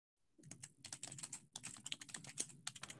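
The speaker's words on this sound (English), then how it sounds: "I hear you typing, dude." Rapid typing on a computer keyboard, a dense patter of key clicks in quick bursts with a short pause midway, close and quiet with no voices.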